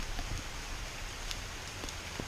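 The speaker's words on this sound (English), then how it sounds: "look at the rain out here" Heavy rain pouring down outdoors, a steady dense hiss with scattered sharper drop taps, fairly faint and continuous with no voices.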